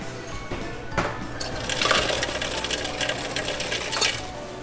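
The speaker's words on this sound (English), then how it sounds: "I'm gonna go ahead and get a little bit of ice." Ice cubes clatter and rattle into a cup from a dispenser at a Buc-ee's, a busy crunchy cascade lasting a few seconds, with a faint hum underneath.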